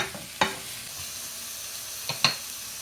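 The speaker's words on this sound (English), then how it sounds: "I'm going to cook these until they're about 2 to 3 minutes on the vegetables" Vegetables soften in a pan for a Spanish mackerel dish, giving a faint, steady sizzle broken by two sharp clacks of a utensil against the pan.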